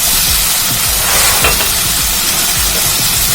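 Soy sauce hitting a hot pan of frying soya Manchurian with chillies, giving a steady close hiss of sizzling broken by small bubbling pops and the clink of stirring, with no voices.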